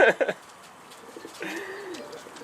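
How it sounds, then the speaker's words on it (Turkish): A homing pigeon, an escaped bird with tape on its wing, coos softly and nearby in a brief rolling call after a few sharp flutters or taps at the start. "Bantlı kaçan giden kuş."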